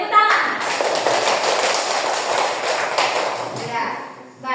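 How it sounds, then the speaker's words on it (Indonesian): A class of children clapping their hands together, a dense, continuous patter of many claps close by, sustained for several seconds before tapering off. "Oke, tepuk tangan."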